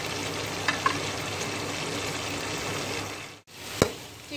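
Chicken fries in hot oil with cloves, red chili powder and salt, giving a dense, steady close sizzle with a few stirring clatters and a short break near the end.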